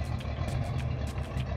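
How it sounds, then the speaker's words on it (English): A 1949 Cadillac Series 62 convertible with a custom 425 Cadillac engine bored 40 over runs at a steady, deep idle close by, with a low rumble and light rhythmic pulsing and no talk. "It's got a 425 Cadillac motor that's been bored 40 over by Cads Inc. of California."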